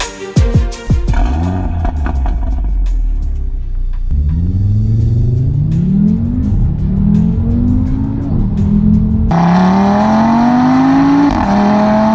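A Stage 2 REVO-tuned Audi RS3 8V, rated 525 bhp and 630 Nm, accelerates hard on a road test, its engine note climbing through repeated gear changes, loud and close with no talk.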